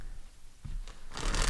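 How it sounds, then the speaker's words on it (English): Tarot cards are shuffled by hand at close range in a quiet room, first as soft scattered riffling, then building to a denser, louder flutter toward the end. "I'm going to shuffle a little bit more."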